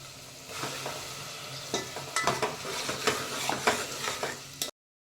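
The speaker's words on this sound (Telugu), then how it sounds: "ఇది ఆయిల్ పైకి వచ్చే వరకు ఫ్రై కావాలి" Tomato puree with turmeric fries in oil for rajma curry, a steady sizzle broken by repeated scraping and clinking strokes of a spoon against the pan, close and clear, ending abruptly; no speech.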